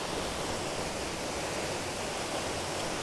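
A waterfall at SummerHill, a steady, even rush of falling water that fills the whole stretch without a break and sits moderately quiet and constant.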